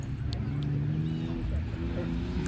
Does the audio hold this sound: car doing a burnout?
yes